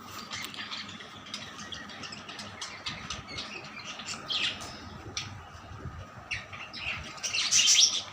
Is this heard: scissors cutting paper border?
no